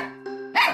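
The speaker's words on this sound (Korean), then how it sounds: "그림자 보고 짖는 거예요, 지금?" A single short dog bark sounds from recorded footage of a dog that barks and bites, rising sharply near the end over steady tonal background sounds.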